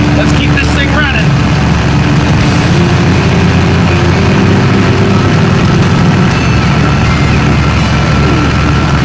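A Ford Ranger pickup engine running without oil runs loudly and roughly up close, a steady low rumble with knocking clatter throughout.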